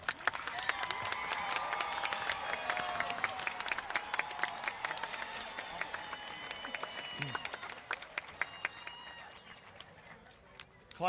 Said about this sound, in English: Please give a round of applause for this group.